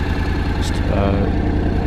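A Honda CTX 700N DCT motorcycle with its stock exhaust idles in a steady, low, even rumble, close by and fairly quiet, with a brief faint noise partway through.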